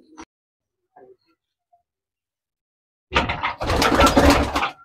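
Pakistani pigeons in a large loft give a loud, close burst of cooing and fluttering bird sounds near the end, after a few faint scattered sounds in near silence.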